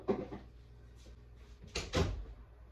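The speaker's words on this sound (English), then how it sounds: "I gotta close the door so she don't hear it" A door being closed in a house, with a couple of soft knocks and handle rattles followed by a firm thud, close by in an otherwise quiet room.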